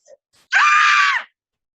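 A storyteller's voice imitates a man screaming: one loud, sustained strained scream lasting under a second, preceded by brief faint vocal sounds, with no other talk.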